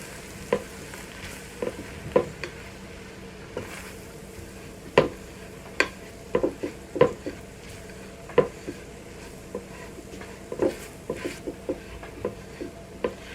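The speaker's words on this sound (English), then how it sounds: "And you want to cook this flour for about 2 to 3 minutes to get that raw taste from the flour" Half a cup of flour cooking with translucent onions in a pan to make a roux for cream of broccoli soup: a continuous sizzle broken by repeated sharp spoon scrapes and clicks, close and fairly loud, with no talking.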